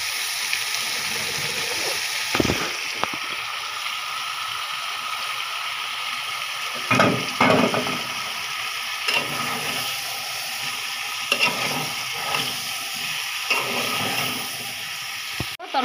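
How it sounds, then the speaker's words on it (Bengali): Curry with lentils sizzling and frying with spices in a pan, a steady hiss of cooking with occasional louder clatters of stirring, close and continuous with no talk. "তরকারিটা মিশাই ফেলছি আমি মশলার সাথে"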